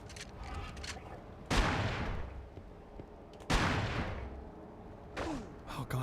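Gunfire in a GameCube video game bursts out in three heavy, booming blasts spaced a couple of seconds apart, each with a decaying rumble, over lighter background shots and effects.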